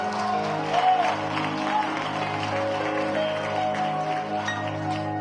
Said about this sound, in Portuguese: Isso, aplauda ao Senhor, meu irmão.